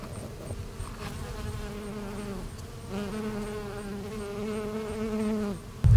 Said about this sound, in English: The majority of the bees that are on our lavender here are honeybees.